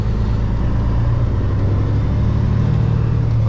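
A Kenworth W900 semi truck with an 18-speed transmission rumbles with a steady, loud, close diesel engine drone that holds evenly throughout, with no distinct gear changes standing out.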